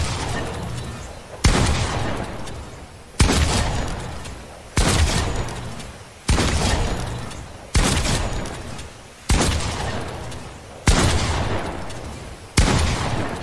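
A pump shotgun fires in the Fortnite video game, about nine heavy booming blasts at roughly 1.5-second intervals, each with a decaying tail, loud and close with no talk.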